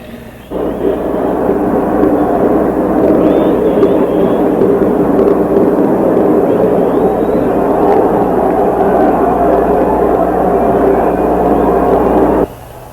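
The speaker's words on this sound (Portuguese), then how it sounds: "Agora é a vez da torcida do Botafogo acordar aqui no Maracanã." A loud, sustained roar of Botafogo fans cheering at Maracanã stadium during a 1994 Vasco–Botafogo football match, a dense wash of noise that starts abruptly and cuts off near the end.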